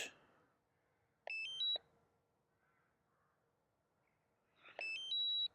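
A DJI Mini 2 drone gives return-to-home warning beeps: two short electronic sequences, a few seconds apart, each a quick run of rising and falling tones over otherwise quiet surroundings.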